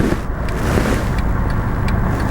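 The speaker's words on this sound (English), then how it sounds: "Lots of traffic to the left." Road traffic rolling past an intersection on a left-turn drive, a steady broadband car and engine rush with wind noise, fairly close and continuous without any voices.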